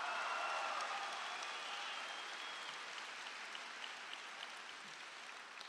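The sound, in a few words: audience applause for graduates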